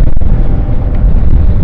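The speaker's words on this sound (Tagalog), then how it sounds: "Grabe lakas ng hangin, man!" Strong wind buffets a microphone during a motorcycle ride, a loud, rough, continuous roar with gusty swells and a thump at the start, no speech.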